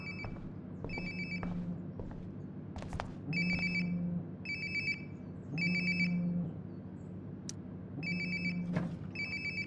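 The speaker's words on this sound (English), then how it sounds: "Sounds like my phone is definitely nearby." A telephone rings in the video game Life is Strange Before the Storm, repeating in regular bursts of electronic trills with short pauses between them, moderately near over a low steady background hum.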